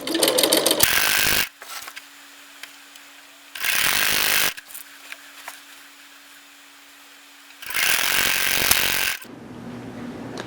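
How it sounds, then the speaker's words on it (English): A sewing machine stitches binding onto the edge of a quilt in three loud, fast-running bursts, separated by quiet pauses that carry a faint steady hum. "So I am sewing that to the edge of the quilt now"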